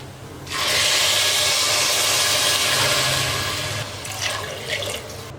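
Water pours steadily into a cooking pot for green peas pulao in a full, splashing rush for a few seconds, then tapers to lighter trickles and drips.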